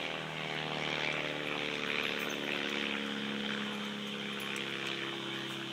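A propeller airplane performs an aileron roll at an afternoon air show, its engine a steady, loud, continuous drone with a slight swell around the middle.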